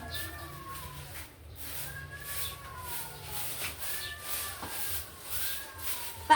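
A cat meows several times on a terrace, short rising-falling cries spaced through the clip over low background noise and some faint voices.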